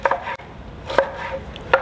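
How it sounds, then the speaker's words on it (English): A knife chops through a peeled onion on a cutting board, a few sharp crisp strikes spaced irregularly, close and fairly loud with quiet pauses between. "chop the onion up to where the blender can blend it together"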